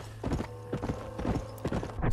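Horse hooves clip-clopping in the video game Red Dead Redemption, a quick regular patter of hoofbeats over a steady low hum of game ambience, with no talking.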